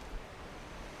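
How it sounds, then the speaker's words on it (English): Steady, broadband wind noise rushing across the microphone, loud and continuous for a moment with no other sounds. "Pretty windy here today."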